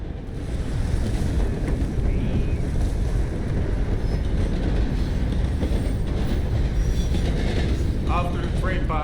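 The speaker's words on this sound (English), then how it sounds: "After the train passes, and it still is." A train passes in Red Dead Redemption 2, a loud, continuous rumble and rushing roar of the cars that holds steady for several seconds, with brief metallic squeals near the end.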